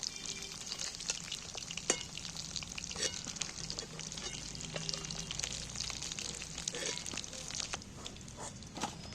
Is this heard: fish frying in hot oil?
yes